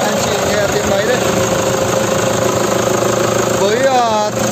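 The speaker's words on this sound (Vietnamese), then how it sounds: "đây em quay tiếng động cơ lúc đang hoạt động đây, máy nổ rất chỉ là êm" A 2009 Toyota Hilux with a 3.0 diesel engine and manual gearbox idles steadily and evenly up close, a continuous low mechanical hum with faint knock, while someone talks over it throughout.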